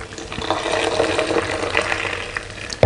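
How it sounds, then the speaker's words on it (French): Hot water poured into a raw coconut-based soup mix in a blender jar, a steady close splashing and trickling pour lasting a few seconds, ending with a sharp knock. "Je vais mettre un peu d'eau chaude"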